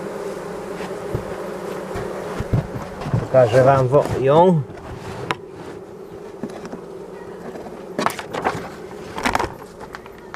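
Steady honeybee buzzing hums around a hive throughout, with a person speaking briefly over it partway through and some scattered handling noises.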